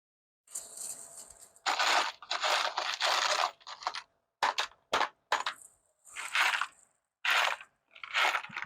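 Screws being backed out of a junk object, with repeated close, crunchy ratcheting bursts separated by short pauses and sharp clicks.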